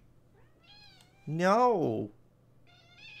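A cat lets out one loud, drawn-out meow up close, rising then falling, with fainter meows before and after it, in a room where someone is gaming live.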